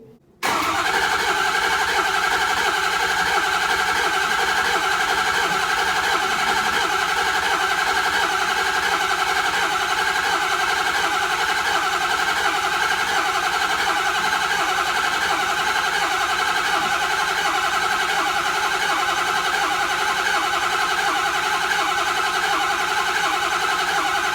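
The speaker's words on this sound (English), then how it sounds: "we might only have to crank that over one more time for about 30 seconds" A Ford 6.0 diesel truck engine cranks over continuously after a high-pressure oil pump repair, a loud, even starter drone that holds without catching or pausing.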